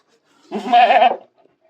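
A single Beetal goat bleat rings out close by, a wavering nasal call lasting about half a second against near silence.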